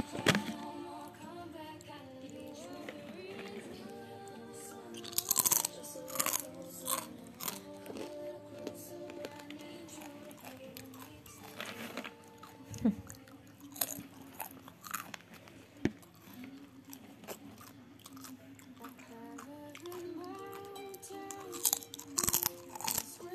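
Crunchy pork crackling snack (kriuk babi) is chewed close to the microphone, with repeated crisp bites and crunches over a steady bed of background music and a little talk.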